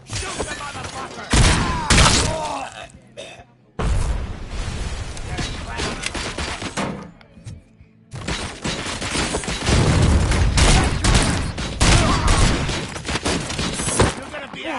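Gunfire in the video game RoboCop: Rogue City, loud dense bursts of shots and impacts with short gaps between salvos, mixed with shouted voices.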